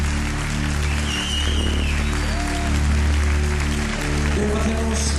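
A crowd at an anniversary celebration gives sustained loud applause for bagpipers and a folk group, dense clapping over a steady low drone, with brief cheers and voices mixed in.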